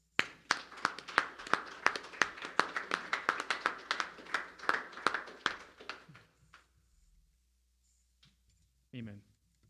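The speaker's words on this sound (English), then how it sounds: "Can we just do a clap offering to God real quick" A church congregation gives a burst of rhythmic, sharp clapping, loud and close, that speeds into scattered claps and fades out after about six seconds, with a voice speaking briefly at the end.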